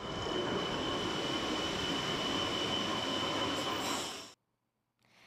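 A metro train in Mauritius rumbles steadily past at close range with a loud, continuous roar and a faint high whine, then cuts off abruptly into near silence.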